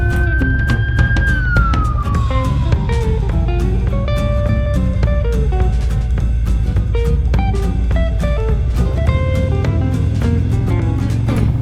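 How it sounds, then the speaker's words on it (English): A police car siren wails over a motorcycle ride through the Sierra Nevada in California, its tone sliding downward as it passes, loud and continuous above a dense, steady background. "Nope, the siren is not for us."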